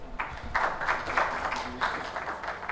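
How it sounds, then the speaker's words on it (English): Conference session audience gives a faint, distant round of applause, soft scattered clapping in a few waves through a hall. "Can we have a round of applause"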